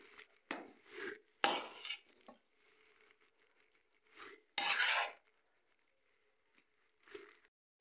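Egg and milk halwa, glossy with released oil, is scraped and spooned from the cooking pan into a serving dish. Several short rasping scrapes and clinks come up close, separated by quiet pauses.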